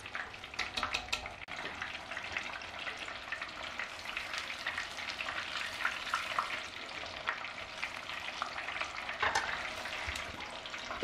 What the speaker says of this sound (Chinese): 中小火，把裹好面包糠的鸡排放进油锅里面炸。